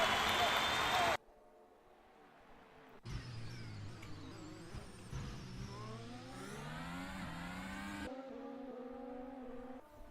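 Formula 1 car in F1 22 climbing through the gears with DRS open at Bahrain during qualifying, a loud rising engine whine broken by quick shift steps, following a short burst of noise and a quiet gap.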